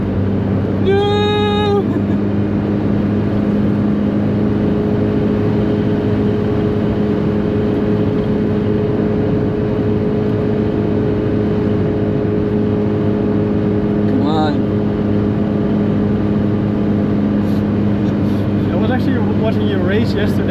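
Daihatsu Copen engine droning steadily at high revs in fourth gear while racing on the Nürburgring, a constant in-cabin hum with brief whines and chirps layered on top.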